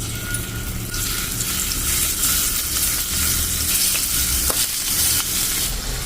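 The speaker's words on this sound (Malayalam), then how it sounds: "ഇനി നമുക്കിതിലേക്ക് ചെമ്മീൻ ഫ്രൈ ചെയ്യാൻ ഇട്ട് കൊടുക്കാം." Prawns fry in hot coconut oil for a Kerala-style prawn roast, a loud, continuous close-up sizzle with crackling bursts and faint stirring, no voices.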